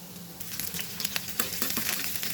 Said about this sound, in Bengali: বাগারের জন্য পেঁয়াজ আর রসুন কিছু দিয়ে দিলাম